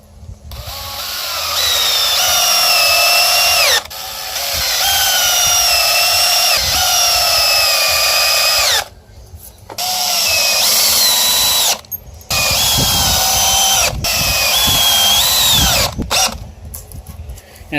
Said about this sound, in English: I've drilled them in far enough to kind of countersink them slightly